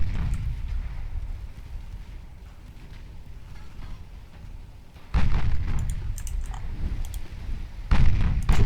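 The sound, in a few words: 8-inch naval guns firing in video game Ultimate Admiral Dreadnoughts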